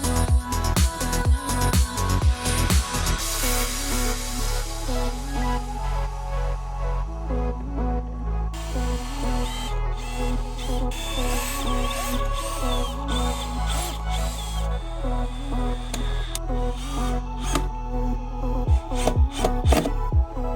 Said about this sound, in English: To cut a hole for the switch wiring to go through, I'm just using a multi-tool